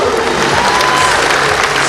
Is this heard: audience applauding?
yes